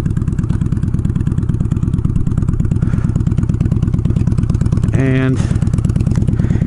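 Honda Shadow motorcycle riding with a loud, close, rapid engine thump throughout, a brief rising whine and clunk of a gear shift near the end, with a voice speaking briefly over it.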